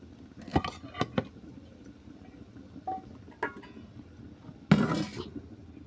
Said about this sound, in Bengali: এরপর ক্যানটা খুলে আমি তোমাদেরকে দেখাচ্ছি